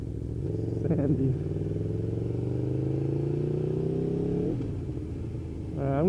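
A motorcycle rolls along with its engine humming steadily, pitch climbing slowly before dropping away as it eases toward neutral, with a brief clatter near the end.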